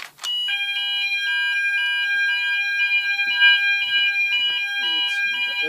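A fire alarm sounds during a test, a loud steady electronic tone that pulses in a regular repeating pattern for several seconds, with faint background noises beneath it.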